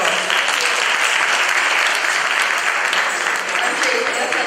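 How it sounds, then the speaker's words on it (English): An audience at a Pongal celebration gives a performance a dense, even round of applause, loud and continuous for the full few seconds. "Please give them another round of applause."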